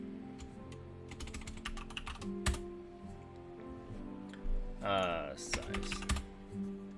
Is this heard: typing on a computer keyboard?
yes